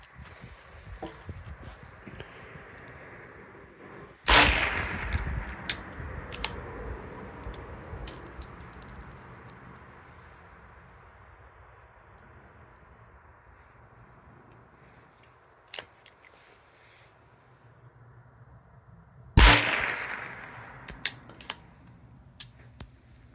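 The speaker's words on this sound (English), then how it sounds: "Let me put a few rounds through it on my local range here" A small game rifle fires at an outdoor shooting range, two sharp loud reports well apart, each leaving a fading echo, with faint clicks and handling noises in between.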